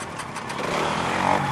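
A motorcycle engine starts and runs with a steady, fairly loud drone that builds slightly toward the end, with no speech over it.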